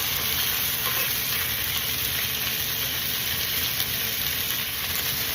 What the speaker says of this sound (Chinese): 那我们现在煎了差不多有2分钟了